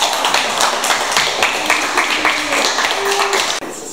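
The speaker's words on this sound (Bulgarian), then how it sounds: "Браво, аплодисменти за Зора." Classroom applause for a student, a dense run of many hands clapping steadily over a murmur of voices before it cuts off abruptly near the end.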